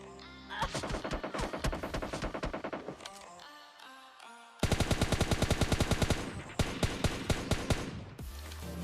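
Gunfire in the mobile game PUBG Mobile Lite: loud rapid automatic bursts of shots in several volleys separated by brief pauses, with no voices.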